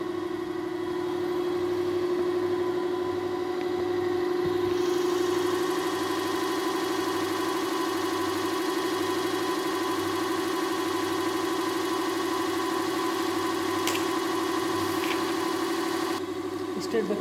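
A DC shunt motor hums steadily at a constant pitch for the whole stretch, loud and close, with a few faint clicks and a voice speaking.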